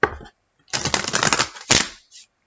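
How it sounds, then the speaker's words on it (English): A deck of tarot cards is shuffled in two quick riffled bursts, a short flutter followed by a longer crisp rustle and a final snap, close and fairly quiet. "Okay, we'll do one last shuffle."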